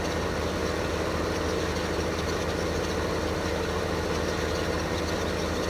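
A tractor engine in Farming Simulator 2015 idles at a steady, continuous low rumble, unchanging and close, with no voices.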